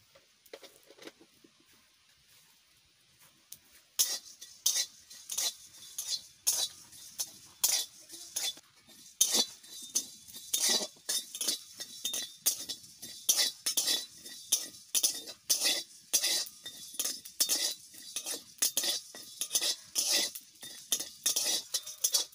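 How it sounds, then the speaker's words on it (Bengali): Coriander and cumin dry-roasted with garam masala in a wok, stirred with a utensil in a fast, rhythmic run of close scraping clinks that starts after a quiet opening and continues steadily, with no talk. "কড়াইতে আমি ধনিয়া জিরা দিয়ে দিলাম, ধনিয়া জিরা আর গরম মশলা।"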